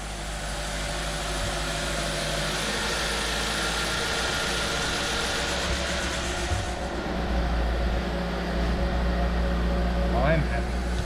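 A freshly started car engine idles steadily and close by, with a constant low rumble and hum running throughout and a brief faint squeak near the end.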